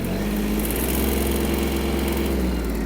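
Warmed-up Yanmar KE-50 mini tractor diesel engine running close by, a steady loud rumbling drone that holds even throughout with no voices.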